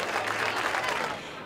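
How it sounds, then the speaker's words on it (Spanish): Brief, dense applause from an audience for young dancers at a dance event in Palencia, steady clapping that fades slightly at the end. "fuerte aplauso para estos chicos tan valientes."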